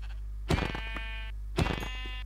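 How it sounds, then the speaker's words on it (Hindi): Goats bleating in the Minecraft video game, two separate wavering bleats about a second apart, clear and close over a steady low hum. "थोड़ा सा बकरी, भाई बहुत ही ज़्यादा बकरी है, तो इनको क्यों ना मार लिया जाए भाई।"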